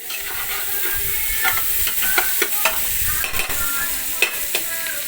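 Aromatics sizzling in a pan for beef papaitan while a utensil repeatedly clacks and scrapes against the metal, a steady close frying hiss punctuated by sharp irregular stirring knocks.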